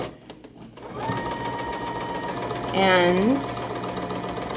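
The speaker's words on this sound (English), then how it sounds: "I'm going to sew this one in place." A sewing machine runs steadily while stitching a quilt block piece, its close, continuous motor hum and needle chatter rising briefly in pitch near the end, with a single spoken word over it.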